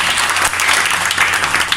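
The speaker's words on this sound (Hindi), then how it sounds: "तालियां मार के ज़रा अपनी तारीफ करते हैं" A short burst of crowd applause at a mobile phone union meeting in Pirmahal, dense steady clapping from many hands throughout, close and fairly loud.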